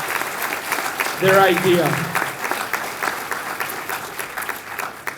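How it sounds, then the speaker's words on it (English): An audience claps at an eighth grade recognition ceremony at a middle school, a moderate round of applause running steadily through the clip beneath a speaker's amplified voice. "a nice round of applause for"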